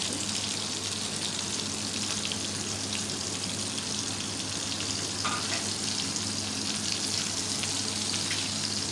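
Onions frying in a pan in a home kitchen, a steady, dense sizzle and crackle that holds at an even level throughout with no talking.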